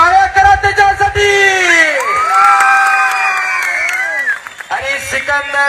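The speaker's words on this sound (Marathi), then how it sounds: "टाळ्या करा त्याच्यासाठी।" A crowd at a Maharashtra wrestling event cheers and applauds for wrestler Sikandar Shaikh, loud whoops and shouting over continuous clapping, with voices rising above the noise throughout.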